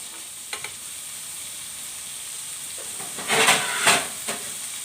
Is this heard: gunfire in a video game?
no